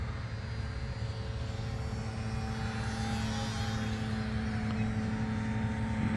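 Small HobbyZone Sport Cub S 2 radio-controlled plane in flight, its electric motor giving a steady, even drone that holds at a moderate distance with little change in pitch.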